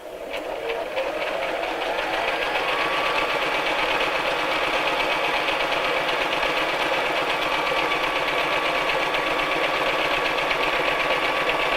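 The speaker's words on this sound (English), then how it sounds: "So I'm going to start at the edge here and sew." A sewing machine runs in one long continuous steady whir while stitching the seam of a child's first tote bag, close and fairly loud, with no talking.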